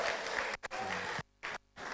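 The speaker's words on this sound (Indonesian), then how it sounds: "Tepuk tangan" A brief burst of audience clapping in a university lecture or seminar room, cut by abrupt drops into near silence.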